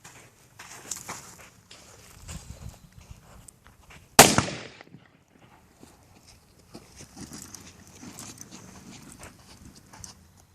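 A 7.62x54R rifle cartridge fired from a converted flare gun bursts with a single sharp, loud bang about four seconds in, after a stretch of quiet outdoor shuffling and movement noises that continue faintly afterward.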